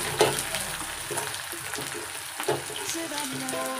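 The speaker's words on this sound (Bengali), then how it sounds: "পেঁয়াজটা দিয়ে হালকা ভাজা ভাজা করে নেবো" Onions sizzle and fry in a pan of hot oil for a home-cooked meat curry, a soft crackling hiss with a few stirring clinks, close by and fairly quiet.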